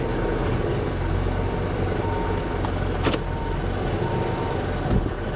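A 2020 Mercedes G63 AMG idles with a steady low rumble as it is shifted into gear, a faint mechanical clunk near the three-second mark, with no voices.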